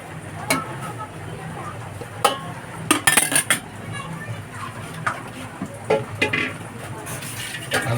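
Chayote and squash are stirred in a cooking pot, with scattered clinks and scrapes of a utensil against the metal over a faint background hiss.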